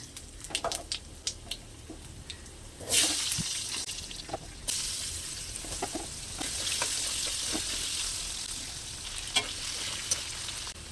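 Potato pieces frying in hot fish oil with whole cumin, dried chillies and bay leaves, a steady close sizzle with bursts of louder crackling and occasional utensil clicks as they are stirred.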